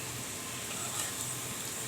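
Onions frying lightly in a pan give a soft, steady sizzle, fairly quiet and continuous, with faint kitchen background and no voices.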